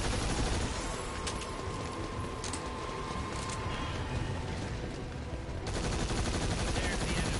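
Gunfire in the Earth Defense Force video game forms a dense, continuous rattle of rapid shots and blasts with a few sharper bursts, loud and unbroken, with game voices faint underneath.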